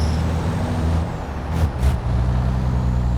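A heavy racing truck engine at an FIA European Truck Racing event rumbles steadily, low and loud, with a brief sharp hiss of air brakes in the middle.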